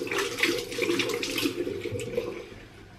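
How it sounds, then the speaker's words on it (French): Running tap water splashes over hands being rinsed at a sink, a close, steady hissing spatter that tapers off slightly at the end, with no talking. "Hop, je me rince les mains."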